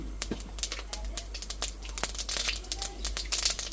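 Mustard seeds tossed into hot oil for a semiya dish, crackling and popping in rapid irregular bursts close by over a steady low hum.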